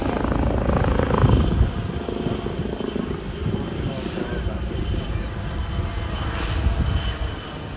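A helicopter with a 43-foot main rotor flies display manoeuvres including spot turns, low-speed lateral and backward flight, climbs and dives at an airshow, a steady loud rotor and engine roar holding throughout.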